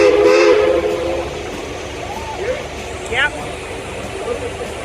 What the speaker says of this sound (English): The Durango and Silverton narrow gauge railroad is often considered among the most scenic train rides in the country and even the world.